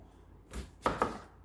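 A knife cuts the stems off aubergines on a board with a few quick, quiet strokes: a soft first cut, then two crisper chops close together.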